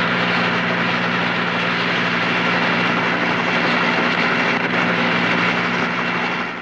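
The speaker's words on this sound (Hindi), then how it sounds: "इस हेलीकॉप्टर की आवाज में तो मेरी कॉन्सेंट्रेशन ही तोड़ दी।" Loud, constant roar of a helicopter close overhead, steady droning hum with a low tonal buzz, fading slightly at the very end.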